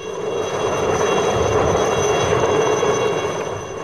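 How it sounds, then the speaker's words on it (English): An Indian Air Force Alouette helicopter built by HAL flies nearby, its engine and rotors making a steady, loud, broad roar that holds evenly for several seconds. "the IAF flies two variants of the HAL-built Alouette helicopters virtually all over the"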